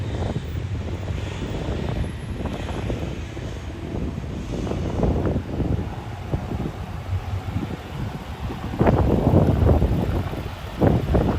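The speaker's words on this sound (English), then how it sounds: "Didn't know it was going to be this windy, everybody." Strong gusts roar across the microphone on a city street in Lexington's Distillery District, a steady low rumble with louder buffeting bursts toward the end and no talking.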